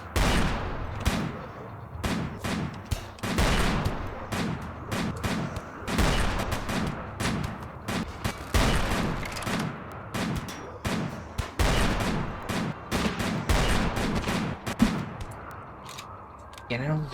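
Sustained video game battle gunfire, with dozens of sharp shots in fast irregular bursts and volleys, close and punchy, and occasional voices mixed in.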